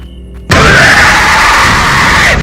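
A loud, sudden scream in the Slenderman horror game: a single sustained shriek that starts abruptly after a short quiet moment and holds at full volume for about two seconds before cutting off.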